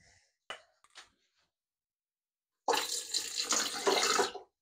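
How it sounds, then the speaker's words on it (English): Water runs from a tap in a steady broadband rush for a couple of seconds after a short quiet stretch with a few faint knocks, close by, with no voices over it. "we forgot to add water"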